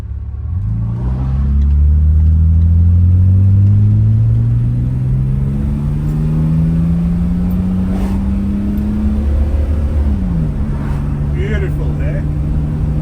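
A 1985 Mercedes-Benz W123 280E with a twin-cam straight-six and automatic gearbox pulls steadily from inside the cabin, a smooth engine drone rising through the gears, with a voice talking over it.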